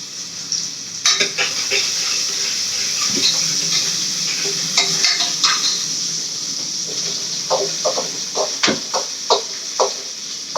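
Onions frying in a pan while being stirred, a constant sizzle broken by repeated scraping and knocking strokes of a spoon that grow more rhythmic toward the end, close by with no voices.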